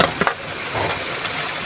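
Garlic paste hits hot oil already softening onions for a goat mutton korma, giving a steady bright sizzle and hiss that stays even, with a short louder burst at the very start.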